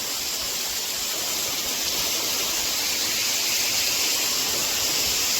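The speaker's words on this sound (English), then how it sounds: "It's a much smaller, but still equally really nice waterfall." A small waterfall in the Cape Breton backcountry, just above a larger falls, gives a steady, even rush of falling water that holds unchanged throughout and stays fairly near, with no voices.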